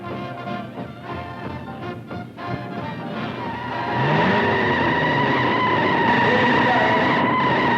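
Racing cars, one of them a Thunderbird, speeding on a track in a hot rod race. Engines growl and rise into a loud, sustained roar as the cars draw close, with a rising whine of acceleration.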